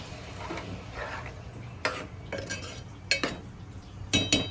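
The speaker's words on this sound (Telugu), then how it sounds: "వాటర్ పోసుకున్న తర్వాత ఒక్కసారి కలుపుతాము" A spoon stirs taro curry in a pan after water has gone in, giving a few sharp metallic clinks and scrapes against the pan between quieter stretches, with no voices.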